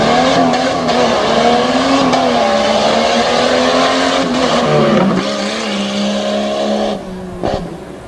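A race car brakes into a tight cul-de-sac turn and corners on a track at a Renegade MTT event in Selinsgrove, PA, its engine loud and close, revs dropping under braking, then climbing again with tire noise as it heads out.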